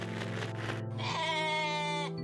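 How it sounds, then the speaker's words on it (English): Sheep in the video game OneShot bleat twice, a short wavering call followed by a longer, strongly quavering one, close and loud over a steady low background hum. "Bah! Bunch of sheep."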